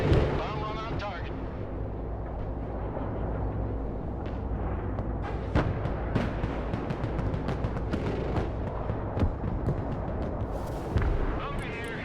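Bombs bursting in a bomb run in the Broken Arrow modern warfare strategy game, a dense roar of continuous heavy explosions and artillery-like booms, loud and close, with voices partly under it.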